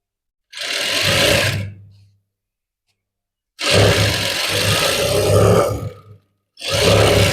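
Sewing machine stitching a maggam work blouse lining, heard in three loud, close bursts of rapid mechanical whirring separated by silent pauses.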